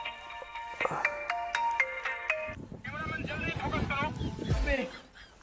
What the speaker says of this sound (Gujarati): તમારામાં ફોન આવે છે